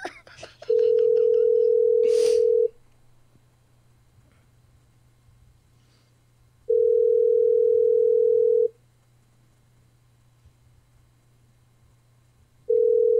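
Steady telephone dial tone as a radio show caller is put through: three long, loud, unbroken tones, each about two seconds, separated by roughly four-second quiet gaps over a low hum, with a brief thump near the start.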